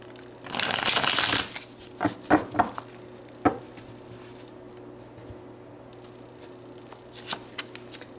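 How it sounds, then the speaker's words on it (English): Tarot cards shuffled by hand in a quiet room: one long riffling burst, then several short separate snaps and taps of the deck, and a few more light taps near the end. "So let's pull some tarot."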